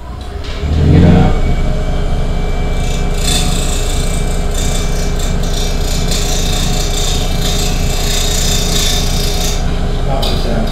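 A woodturning scraper cuts on its burr against spinning wood on a lathe, making a steady rasping, whirring drone over the lathe's constant motor hum after a short louder onset.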